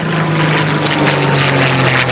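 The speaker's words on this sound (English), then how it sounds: "piston-engine aircraft of the historic flight." A loud, close Fairey Firefly piston-engine propeller aircraft drones steadily overhead during a 1991 flypast at RNAS Yeovilton, its engine hum filling the air with a deep, constant roar.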